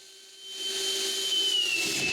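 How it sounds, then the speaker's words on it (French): A wooden support being screwed into place in a woodworking shop, heard as a steady motor whine that swells after half a second and holds loud to the end, with no talking. "Après avoir marqué la position du support, je le visse en place."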